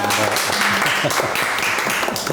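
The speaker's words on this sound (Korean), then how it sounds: "사랑으로 살아갈 수 있는 우리 이성호님이 되시도록 다시 한번 큰 박수 한번 보내드리도록 하겠습니다." A studio audience gives a steady burst of applause at a talk show. Dense clapping fills the space continuously, with voices faintly mixed in beneath it.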